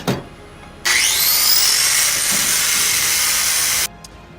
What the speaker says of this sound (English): just chop off this crowbar end